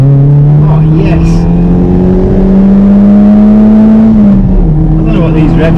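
A Fiat Seicento Sporting engine revs hard while driving, a loud steady drone rising in pitch toward high revs, dipping briefly near the end, then holding on, with no talk over it.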